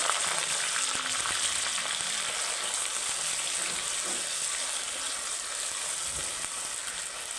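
Onions sizzling in hot oil in a home kitchen pan, a steady broadband frying hiss running evenly from start to finish with faint clinks underneath.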